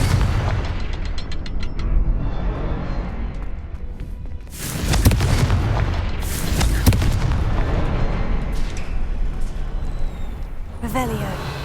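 Confringo spell explosions in the video game Hogwarts Legacy: heavy booming blasts that burst out strongly around the middle and again near the end, over a constant rumbling game backdrop, with a voice present at times.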